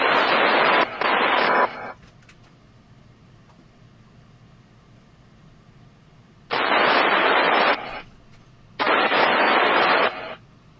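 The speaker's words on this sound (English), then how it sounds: "They just dropped mad tones and they didn't say anything." Loud radio scanner alert tones during live severe storm and tornado emergency coverage in Kentucky: three bursts of broadband tone, two close together at the start and two more after a quiet gap, with a low hum in between and no voice.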